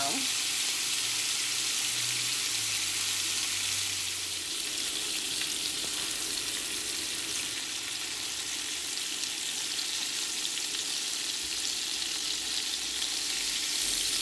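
Venison Salisbury steak patties fry steadily in a cast iron skillet, a dense, even sizzle holding at the same level throughout with no talking.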